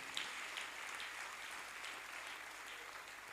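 A church congregation applauds in a steady, dense wash of clapping that carries on throughout at a moderate distance, with no voices over it.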